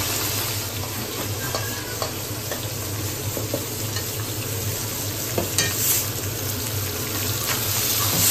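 Chicken frying in a wok with spices, stirred steadily: a continuous close sizzle with scraping and clinks of the spoon, no voices over it.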